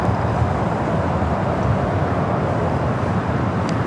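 A British Airways airliner taxiing across the airfield at Los Angeles International Airport, heard as a steady, dense jet roar that holds at an even level throughout, with no voices.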